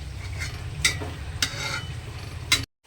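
Fried cauliflower and potato being stirred into vegetarian khichdi, with a low steady bubbling underneath and a few sharp spoon scrapes and clinks against the pot before the sound cuts off abruptly.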